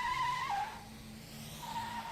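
Tires squeal as a police cruiser fishtails across a lawn, a loud high-pitched skid that wavers and bends in pitch, fades briefly and then returns faintly over a low engine rumble.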